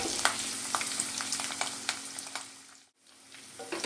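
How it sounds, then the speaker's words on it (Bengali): Ginger, garlic, green chili and onion fry lightly in a pan with a soft continuous sizzle and intermittent stirring clatters, fading briefly near the end before resuming. "আদা, রসুন, কাঁচা লঙ্কা, পেঁয়াজ। এগুলো কিন্তু আমি হালকা করে ভেজে নেব"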